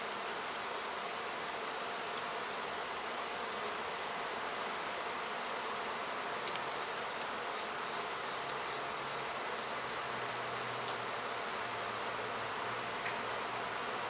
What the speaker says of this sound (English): These probably robber bees up there.